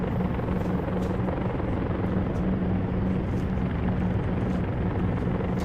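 Vickers Vimy propeller aircraft in Flight Simulator X, a steady loud droning engine and propeller hum that holds constant throughout with a low throbbing tone and no talking.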